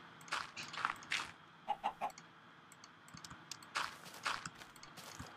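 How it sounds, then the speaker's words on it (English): Chicken clucking in the Minecraft video game, a series of short soft clucks in small clusters, with faint clicking in between. "You stay in there, you silly little chicken."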